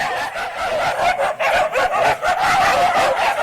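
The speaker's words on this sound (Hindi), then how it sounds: "इन कुत्तों ने भी परेशान करके रख दिया" Several street dogs bark in a dense, continuous clamour, loud and close. The barks overlap in rapid succession, with no pause across the few seconds.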